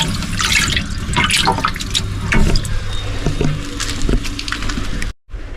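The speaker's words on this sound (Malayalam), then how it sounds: "ടാങ്കിലോട്ട് വെള്ളം നിറച്ച് നമുക്ക് എത്രയും പെട്ടെന്ന് തിരിച്ചിറക്കാൻ കേട്ടോ" Water pours steadily into a large aquarium tank for big predatory fish such as arapaima and snakehead, a loud continuous rushing splash that cuts off abruptly near the end.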